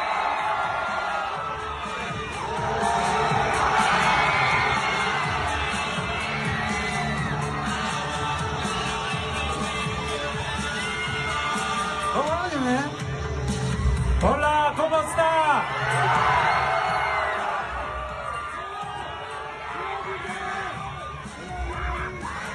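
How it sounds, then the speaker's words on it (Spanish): A large crowd cheers, yells and whoops at the Mexico world premiere of Morbius as Jared Leto is introduced, a loud, continuous roar with bursts of shouting and voices mixed throughout. "¡Aplauso fuerte!"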